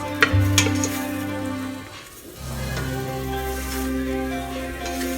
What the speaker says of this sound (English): for those of you that don't know how to brown onions, this is how you do it